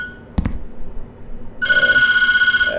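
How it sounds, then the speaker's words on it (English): In the horror game Tattletail, a brief knock sounds first, then after a quiet pause an old-style telephone bell starts ringing in fast, steady, loud trills that continue to the end. "Why does that phone keep ringing every night?"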